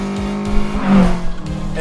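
A 1991 Toyota MR2 drives past fairly close, its engine note rising and falling with a brief swell of tire and road noise in a short pass, with a faint voice beneath.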